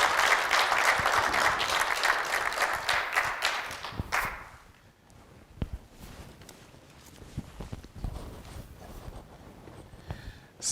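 Audience applause in a hall, a loud dense burst for about four seconds that cuts off sharply, leaving scattered claps, taps and faint room noise.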